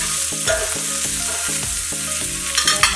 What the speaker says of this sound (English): Saute a bit more.